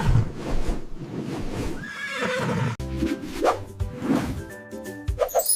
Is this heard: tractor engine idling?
no